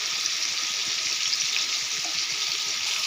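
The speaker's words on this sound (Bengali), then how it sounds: "পটলটা একটু ভেজে নেব লাল লাল করে" Pointed gourd frying in oil in a pan, a steady, moderately quiet sizzle with soft crackles continuing evenly and alone.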